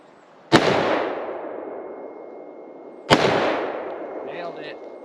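Two loud rifle shots from an LMT L129A1 at an outdoor range, spaced about two and a half seconds apart, each with a long rolling echo, followed by a brief voice.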